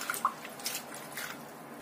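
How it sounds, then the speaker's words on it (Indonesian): Vegetable leaves rinsed under a running kitchen tap: a steady hiss of flowing water with a few small splashy drips near the start, close and alone. "Kemudian kita bilas dengan air mengalir sampai bersih."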